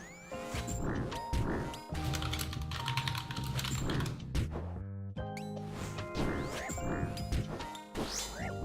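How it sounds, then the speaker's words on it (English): Steady rapid clatter of computer keys typed in bursts, close and fairly quiet, layered over continuous game music and sound effects with no talking. "That's what I get for typing on Discord."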